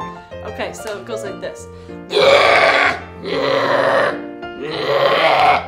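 A person imitates a bear with their voice, making three loud, sustained growling roars in a row, each lasting about a second and following a brief spoken introduction.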